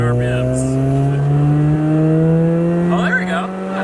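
A rotary-engine car revs steadily upward toward 5,000 RPM, its engine tone climbing smoothly and loudly, heard close with some speech.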